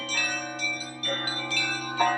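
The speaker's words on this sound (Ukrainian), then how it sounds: "послухайте церковний дзвін." A church bell rings at a monastery in Lubny, Ukraine, with strong sustained tones and a few fresh strikes overlapping the lingering ring, fairly close and alone.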